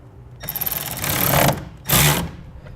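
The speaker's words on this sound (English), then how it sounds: "I'm going to be using a 9/16 socket to tighten it down." A 9/16 socket tightening down a clamp on a BAKFlip G2 hard tonneau cover rail, heard as two bursts of rapid ratcheting clicks, the first longer and the second shorter after a brief pause, close and fairly loud with no talk.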